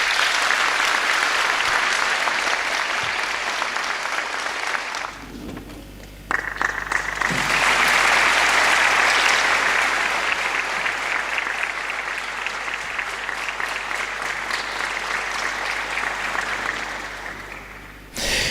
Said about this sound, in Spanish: Recibámoslos con fuerte aplauso.